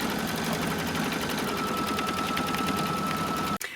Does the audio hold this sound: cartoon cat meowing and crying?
no